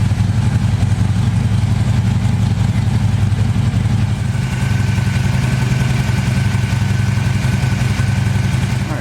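A Harley-Davidson motorcycle engine idling steadily to warm up after an oil change, a loud, close, continuous low rumble with a slight shift in tone partway through.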